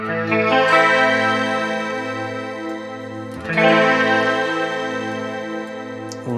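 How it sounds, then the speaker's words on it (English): Guitar through the shimmer effect of a Sonicake Matribox 2 Pro, two sustained chords ringing out with bright, layered octave overtones and a long washy tail, the second strummed midway and decaying the same way. "Rich shimmering effect."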